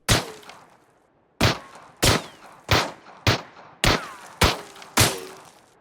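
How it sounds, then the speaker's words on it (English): Eight sharp, loud cracks of gunfire with bullet whiff effects in the video game PUBG, spaced roughly half a second apart after an opening shot and a pause, each followed by a short decaying whizz. "There's also bullet whiffs or sound effects now."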